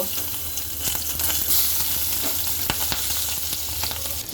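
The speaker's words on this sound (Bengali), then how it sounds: "এখন মাছটাকে ভেজে নেব" Tengra fish fry in hot oil with a dense, loud, continuous sizzle and crackle, close up and steady throughout, with faint clicks of spattering.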